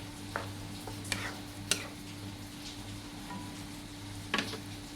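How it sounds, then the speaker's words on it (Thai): Egg and bottle gourd are stir-fried in a pan, a low steady sizzle beneath a constant hum with a few sharp scrapes and taps of a spatula against the pan. "ก็เลยเพิ่มไข่ แล้วก็ผัดให้เข้ากันนะคะ คนคนไข่ให้แตก"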